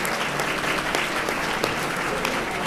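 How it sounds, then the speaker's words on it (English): Sustained, loud applause fills an awards-night hall as a crowd congratulates the evening's laureates, dense clapping with a few sharper claps standing out throughout. "I hope you will all join me for a warm round of applause again to congratulate all of our laureates this evening"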